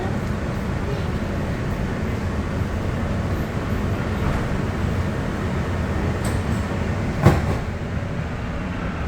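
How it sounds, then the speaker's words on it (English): The ATL SkyTrain people mover pulls away at Atlanta airport, heard from inside as a steady, even rolling rumble with a faint hiss and a single sharp clunk near the end. "Welcome aboard the ATL SkyTrain. Please hold on. This train is departing."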